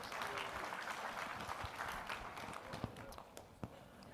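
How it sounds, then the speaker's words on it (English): Audience applause at a tech conference keynote, a steady wash of clapping from a large crowd with a few sharper claps standing out near the end, fairly faint. "Let's give yourselves a round of applause."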